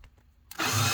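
A power tool whirs up abruptly partway through, loud and steady after a quiet start, while undoing Torx screws on the metal battery cover of a Mercedes-Benz 3500 Sprinter van.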